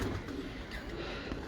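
Breeder pigeons coo softly in a loft, a low murmuring warble that runs steadily through the moment with no talk over it.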